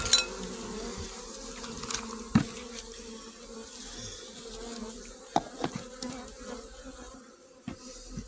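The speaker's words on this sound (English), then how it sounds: "A half cup of bees, roughly 200 bees, donated to science." A faint, continuous insect buzz of about 200 honey bees humming in a lidded cup, with occasional light knocks and clicks.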